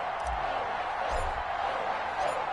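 A sold-out stadium crowd roars in an NFL video game as the New England Patriots are introduced against the Miami Dolphins, a steady wash of distant cheering under a commentator's voice.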